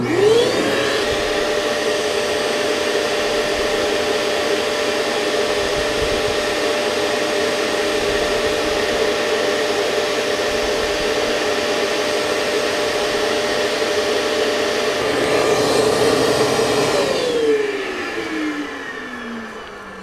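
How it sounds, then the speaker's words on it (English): A shop vacuum runs steadily through an Oneida Ultimate Dust Deputy cyclone separator, giving a loud, constant whine with airflow rush for most of the run before the motor is switched off and winds down near the end. "This is now the Oneida Ultimate Dust Deputy."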